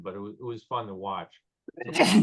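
Someone speaks briefly, pauses, then a single sharp sneeze bursts out nearby.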